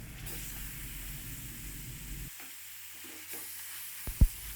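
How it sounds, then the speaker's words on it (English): Minced meat frying with lots of garlic in a pan for a cabbage dish, a steady sizzle and stirring that drops away sharply halfway through, leaving quieter hiss and a couple of sharp clinks near the end. "Cook for some time and then add your meat."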